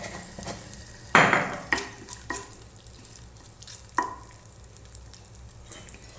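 Green chilies, ginger and a small bay leaf fry in a pan under a low sizzle, with several sharp metal clanks and scrapes of a spoon stirring against the pan, close and alone.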